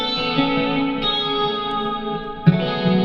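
A sustained clean electric guitar chord, played through a Fractal rig, rings out, washed in long delay and reverb, restruck about a second in and again near the end.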